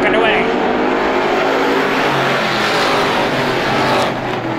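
Loud, roaring race car engines accelerate together on a green-flag restart at a speedway, a dense sustained wall of motor noise with rising pitch, close and continuous.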